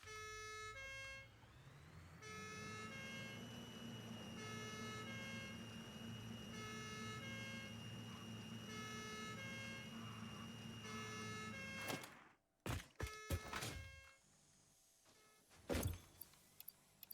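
A looping electronic alarm siren in the video game Satisfactory wails steadily for about twelve seconds, loud and close, then cuts out abruptly, leaving brief clattering game sounds.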